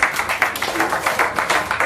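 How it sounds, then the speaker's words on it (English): An audience at a soufflé-baking cooking demo at the Taunton Food & Sustainability Show 2015 claps close by, with quick, steady hand claps that last about two seconds and little talk. "Clap to us."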